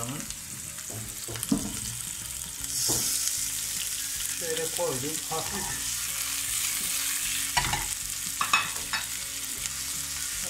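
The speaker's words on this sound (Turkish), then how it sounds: "Şimdi hafif soğanlarımı öldüreceğim, karamelize edeceğim." Chopped onions fry in oil in a pan as they start to caramelize, a steady bright sizzle with stirring scrapes and clatters of the utensil throughout, while a person speaks briefly.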